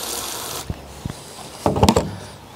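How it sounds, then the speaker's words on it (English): Water rinses out a measuring container used for mixing lawn grub-prevention product, heard as a brief splash and a cluster of sloshing, gurgling bursts near the end after a few soft knocks. "Rinse that out."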